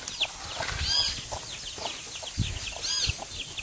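A hen clucks softly nearby while small chicks peep in high, thin chirps, scattered calls overlapping throughout.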